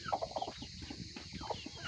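Several chickens cluck in short, repeated bursts, close by and moderately loud, with a louder squawk near the end.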